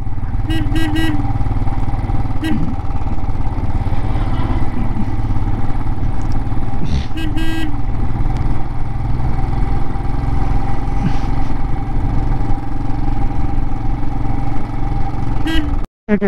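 A motorcycle climbs slowly from Leh toward Khardung La Pass, its engine droning loud and steady close by with wind rush and a few brief rattles, ending in a sudden cut.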